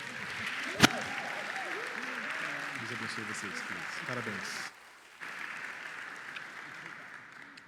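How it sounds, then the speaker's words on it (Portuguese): A church congregation at a Sunday service applauds a couple with steady clapping, while a voice speaks over it. A sharp knock sounds early and the clapping dips briefly near the end. "Uma salva de palmas para esse querido casal"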